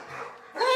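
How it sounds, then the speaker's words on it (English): Dogs bark in one brief, fairly close burst that rises sharply at the end of a very short moment. "My dogs are barking."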